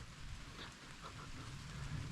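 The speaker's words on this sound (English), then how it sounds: "it's proper raining" Heavy rain falling along a Pennine cycling trail: a soft, steady hiss of rainfall, faint and constant throughout, with no voices.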